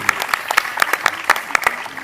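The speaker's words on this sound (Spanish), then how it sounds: "vamos a regalarle un fuerte aplauso" An audience at a sports and media round-table panel claps for the panel guests, the clapping loud and close, with sharp distinct claps in an uneven rhythm.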